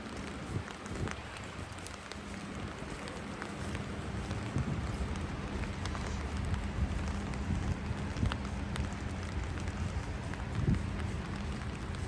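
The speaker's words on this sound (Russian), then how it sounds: "Да, дождик, блин, паршивец такой." Steady rain falls outdoors in the mountains around Rosa Khutor near Sochi, a dense, even patter that runs unbroken at moderate level with faint scattered ticks throughout.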